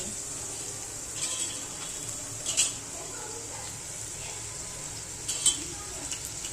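Garlic and chilli tempering sizzles softly in hot oil with dal added, a faint continuous hiss broken by occasional clinks of a spoon or pan.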